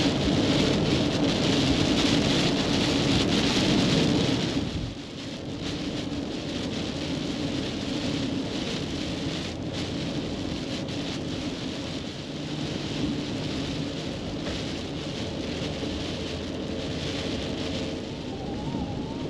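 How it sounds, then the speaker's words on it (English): Heavy rain pours down near the Hoover Dam, a dense, steady hiss of drops with low thunder rumbling through, loudest at the start before settling into a constant downpour. "We got some rain."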